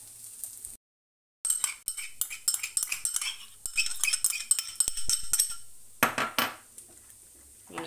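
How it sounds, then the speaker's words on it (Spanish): Two cans of tuna being mixed with fried tomato in a bowl: a busy run of clinks and scraping utensil strokes, close and fairly loud, with a brief silent gap near the start and a denser burst of clatter toward the end. "mezclar las 2 latas de atún con el tomate frito"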